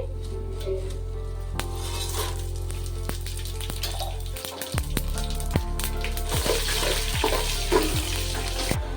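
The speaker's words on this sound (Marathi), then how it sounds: "तर हा मसाला आपल्याला आता हा तेलामध्ये टाकून घेते मी." Whole spices such as cardamom and cloves frying in hot oil for chicken biryani give a steady, close sizzle and hiss. Midway it dips briefly, then comes back busier with crackles and light ticks.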